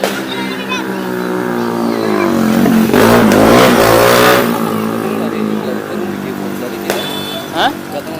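Motorcycle engine rising and falling as it passes close by during a New Year's Eve night ride, a broad roar building to a peak near the middle and then fading, with people talking over it.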